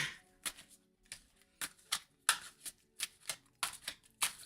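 Playing cards are shuffled in a run of short, crisp riffling bursts about every half second, close and fairly quiet, with a faint tonal hum underneath and no talking.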